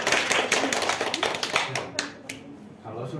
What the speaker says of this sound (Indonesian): Ya, tepuk tangan dulu Mbak Bina